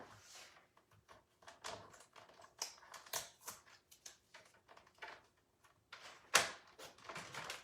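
Scissors snip a strip of leftover Designer Series Paper scrap, giving a run of quiet, crisp clicking cuts in an irregular rhythm, close by and faint, with no talk.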